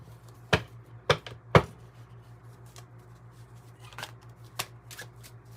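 Tarot cards are shuffled with three sharp riffling bursts in quick succession, followed by softer, scattered card flicks and shuffles over a quiet background hum.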